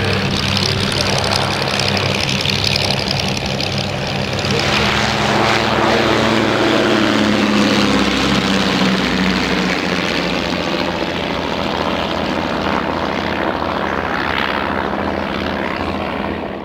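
A de Havilland Tiger Moth propeller biplane drones loudly overhead, its engine note swelling and shifting in pitch as it passes, steady and continuous throughout.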